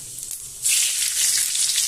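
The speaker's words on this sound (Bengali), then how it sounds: "তেল গরম হয়ে গেছে, এখানে আমি 5 ফোড়ন দিয়ে দিচ্ছি আর দুটো তেজপাতা আর কাঁচা লঙ্কা চেরা" Panch phoron, two bay leaves and split green chillies hit hot oil in a pan, and a sudden loud hiss bursts in partway through, then holds steady and close.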